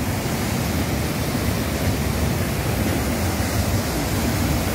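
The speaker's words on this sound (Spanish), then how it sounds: "llegamos a la cascada del Pantanal" The Pantanal waterfall pours in a loud, continuous broadband rush, steady and unbroken throughout with no voices.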